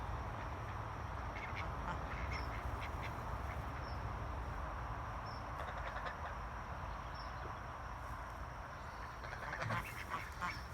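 Farm ducks, with one goose among them, quacking in scattered bursts over a steady outdoor background hum, calls fairly faint and spread across the whole stretch.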